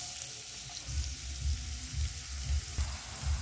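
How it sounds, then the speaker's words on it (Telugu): Chopped onions and curry leaves fry in about three tablespoons of hot oil in a pan, giving a steady close sizzle with soft, regular bursts as the pan is stirred. No one speaks. "కట్ చేసిన ఉల్లిపాయలు కరివేపాకు అయితే వేసుకుందాం"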